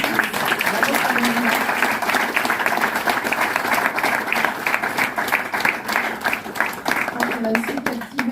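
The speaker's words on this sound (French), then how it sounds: "Alors, on peut applaudir." An audience at a literary meeting applauds steadily for several seconds, dense close clapping throughout with some voices mixed in.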